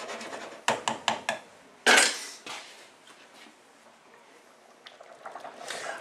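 A metal lid clatters onto a cooking pot of shellfish stock, with a quick run of light clinks followed by one louder clang that rings out, then quieter knocks of kitchenware.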